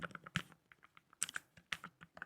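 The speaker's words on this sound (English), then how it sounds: "Now I'm going to touch the keyboard so you guys can hear the sound" Keys tapped on a Lofree Edge low-profile wired keyboard give quiet, crisp clicks in uneven bursts, close and alone with no talking.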